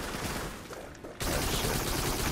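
A sudden loud burst of sniper and rifle fire breaks out in the Farpoint VR game, a dense crackling barrage following a stretch of quieter ambient noise.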